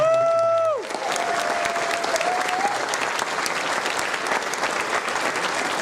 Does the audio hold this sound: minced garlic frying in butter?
no